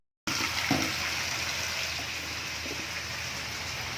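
Water pours steadily into a cooking pot for a dish with malunggay leaves, a continuous close splashing rush that starts abruptly and runs without a break.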